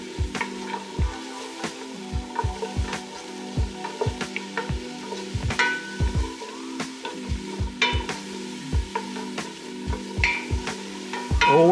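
Onions seasoned with salt and pepper fry in a pan for turkey chili, giving a steady close sizzle broken by frequent knocking scrapes of a utensil stirring them around, with no talking.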